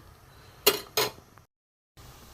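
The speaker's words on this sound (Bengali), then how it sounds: "এখানে নুন দেব দিয়ে একটু নেড়ে দেবো ভালো করে সেদ্ধ হোক" A spoon clanks twice against a cooking pot while fish roe is stirred with salt and turmeric. The two knocks are short and fairly close, followed by a brief silence.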